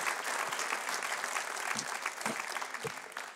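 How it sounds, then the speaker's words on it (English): Audience applause for a guest named Colleen, a steady, dense wash of clapping from a live studio crowd that carries unbroken through the whole stretch at full strength. "A round of applause for Colleen. Make some noise."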